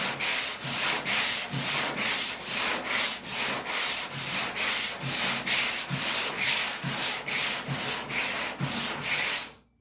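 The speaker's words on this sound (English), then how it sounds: "let that set up for a few minutes, and then we'll sand this one off" Steady back-and-forth block sanding of body filler on the rear doors of a 1956 Dodge panel truck, a rhythmic rasping stroke repeating about twice a second, close and loud, with no talk.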